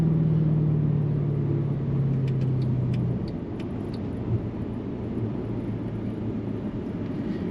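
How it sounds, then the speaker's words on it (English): A 2010 Mercedes AMG sedan's engine pulls hard while merging into traffic on a hot day in Washington, D.C., a deep droning roar that eases into a steady rumble, heard from inside the car. "And that engine note is just intoxicating."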